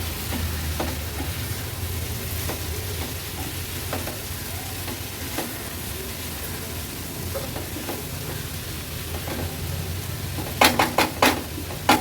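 Dried shrimp and raw jackfruit with kokum sauté in a pan, giving a steady sizzle under repeated spatula scrapes, then a quick burst of louder metal clacks near the end.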